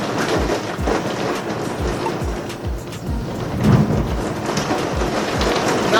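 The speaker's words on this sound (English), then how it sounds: "Oh, it is literally storming outside." Steady rain with gusting wind outdoors, a dense broadband wash broken by low rumbling thumps, continuous and fairly loud with no voices.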